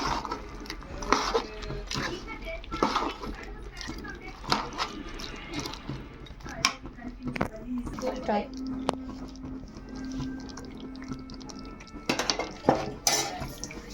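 A spoon scrapes and clinks against a pot while mixing spiced country chicken curry, giving irregular close metallic knocks over a wet bubbling sizzle, with a voice heard at times.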